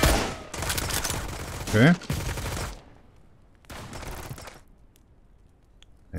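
Sniper rifle gunfire in the survival game Mist Survival, loud sharp reports bunched in the first few seconds with overlapping speech, then quieter game noise and a final brief burst.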